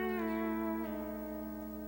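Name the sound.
pedal steel guitar melody note using the F lever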